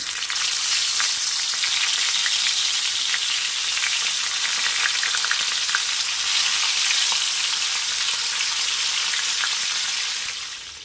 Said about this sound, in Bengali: এখানে প্যানে তেল গরম হয়ে গেছে, আমি মাছগুলো দিয়ে দেব ভাজার জন্য।